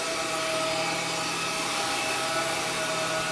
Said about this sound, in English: But that's just sanding and fairing going on there.